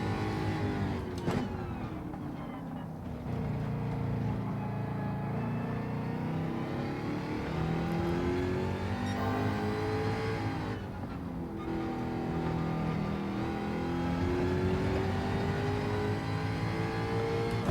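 Engine of a race car in Gran Turismo 7 drones steadily and climbs through gears under hard throttle, with rising and falling pitch sweeps over the full run and a brief shift around the middle.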